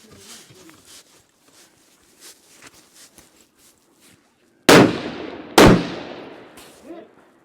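An Accuracy International AT-X rifle fires two loud, sharp shots at a 10 by 10 steel target 700 yards away, each with a long decaying echo, after quiet rustling and handling noise.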